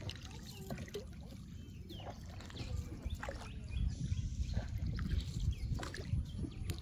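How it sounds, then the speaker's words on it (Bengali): A small boat is rowed through floodwater in the Islampur area of Rajnagar, Moulvibazar, giving a steady low wash of water and rumble with faint sloshing that grows slightly louder toward the end; no one speaks. "ছোট্ট একটা বাচ্চা নৌকা বাইয়া যার।"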